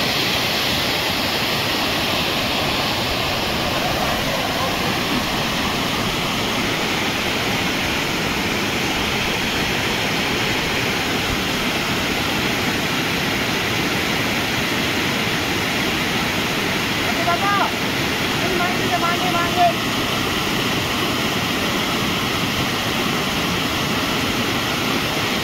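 Loud, steady rushing of heavy water, like a strong torrent or waterfall, fills the whole stretch without a break, with a few faint voices underneath.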